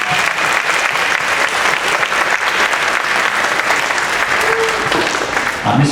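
At an elementary school spring concert, the audience gives the piano accompanist a round of applause: dense, steady clapping from a large crowd that carries on for several seconds.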